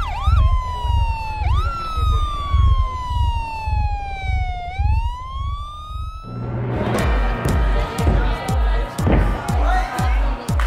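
A loud ambulance siren wails up close at a cheerleading event, sweeping down and up in long tones, then gives way to crowd noise and clatter.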